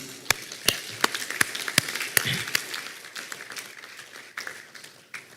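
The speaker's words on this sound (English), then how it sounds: "My applause for you." Scattered applause at the World Archery Congress, with a few sharp, distinct hand claps standing out over a fainter spread of clapping from the hall.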